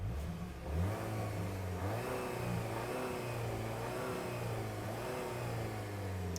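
A 2026 Volkswagen Tiguan 195TSI R-Line's engine and exhaust rev with a bassy, steady drone, rising and falling through several throttle blips, close and fairly loud with no talking.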